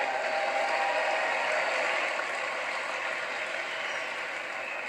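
Sustained audience applause for four doubles tennis players at a tennis event, a dense wash of clapping that stays full and even throughout, gradually easing slightly toward the end, with no talk over it.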